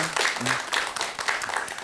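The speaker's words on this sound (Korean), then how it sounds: "박수 한 번만 다시 부탁드리겠습니다" Audience applause at a Buddhist talk show with a monk hosting: a moderate, steady patter of many hands clapping, fairly soft, with a faint voice briefly underneath.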